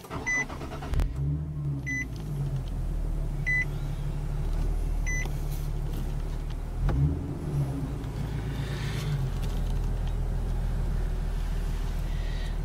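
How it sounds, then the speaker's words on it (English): 2015 Nissan 370Z Nismo push-button start: a cabin chime sounds, then the engine cranks and fires into a steady idle, restarts with a second crank and settles into a low rumble, heard from inside the car. "starting it up, you just put your foot on the brake and push the start button"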